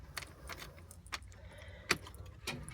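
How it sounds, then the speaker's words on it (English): Keys jangle and click as they go into the ignition of a CNG truck, several faint metallic clinks and rattles spread over a few seconds, with one sharper click near the end. "inserting our key in the ignition"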